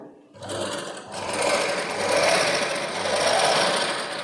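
Sewing machine stitching a zigzag seam on cloth, a loud, steady, fast mechanical whirring close by that starts after a brief pause and runs without speech.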